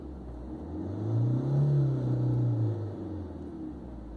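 A 2019 Tata Nexon XZ+ diesel automatic engine starts up close by with a low rumbling surge that swells, then settles into a steady idle drone, with no talking.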